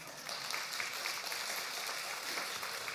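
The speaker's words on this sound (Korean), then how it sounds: "박수 한번 칩시다." Faint applause from a church congregation during a Sunday worship service, a steady wash of clapping heard from a distance for about three seconds.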